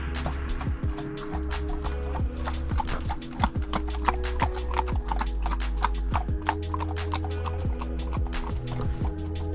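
Steady clip-clop of several horses' hooves walking on a hard surface, with a low constant rumble underneath and faint voices in the background.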